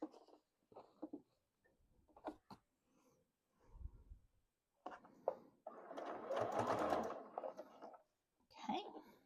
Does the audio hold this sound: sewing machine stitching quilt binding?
yes